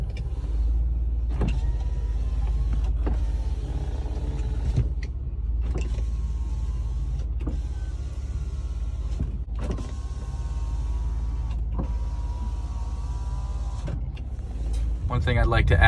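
Power windows of a 1993 Mercedes-Benz 300E W124 running up and down several times, a close, steady electric motor whine broken by clunks where each window stops, over a low cabin hum.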